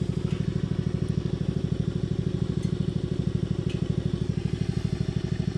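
A mud mower engine idles close by with a loud, steady, rapid low thumping pulse that stays even throughout, with no talk over it.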